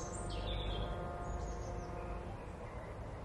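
Birds chirp in a nearby park, a few faint high tweets over a steady low outdoor hum, distant and without speech.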